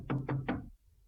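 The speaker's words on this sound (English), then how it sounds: "In a few moments he heard Little Red Riding Hood knock at the door." Three evenly spaced knocks on a cottage door, in a spoken fairy-tale retelling, each one a full, fairly close thud with a short ring, and then quiet.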